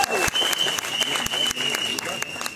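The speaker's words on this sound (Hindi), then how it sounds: "तालियां बजाइए अपने भारत के लिए।" A crowd at a film trailer launch press conference in Mumbai applauds for India, with loud, dense clapping throughout and a faint tone ringing beneath the applause.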